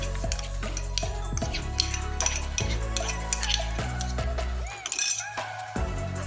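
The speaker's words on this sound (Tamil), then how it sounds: "மில்க் மேட் கண்டென்ஸ் மில்கை ஃபுல்லாக ஆட் பண்ணிடுறேன்" Sweetened condensed milk poured into a bowl of kulfi mixture and stirred, with close metallic spoon clinks and scrapes against the bowl in an irregular rhythm, no talking.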